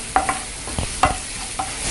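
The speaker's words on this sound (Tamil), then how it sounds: "நல்லா ஃப்ரை பண்ணிட்டோம்." Chopped onion and garlic fry in a pan for garlic chilli Maggi noodles, a faint steady sizzle with a few light scrapes and clinks of a spoon stirring, no voices.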